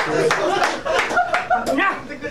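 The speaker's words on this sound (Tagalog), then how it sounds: "Kada rebat niya, may palakpak sa dulo" Brief scattered clapping from an audience at the close of a FlipTop rap battle rebuttal, a few sharp hand claps mixed with laughter and chatter in a lively room.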